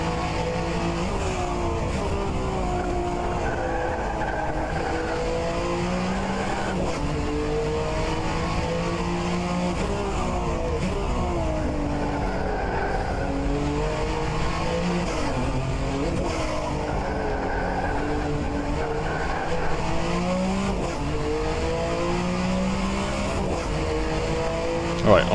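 A Group C sports car laps Sebring in a racing game, its engine roaring continuously and rising and falling through gear changes and corners, loud and close for the whole stretch.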